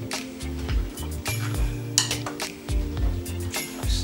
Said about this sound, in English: Then I'm gonna stir it and see what happens.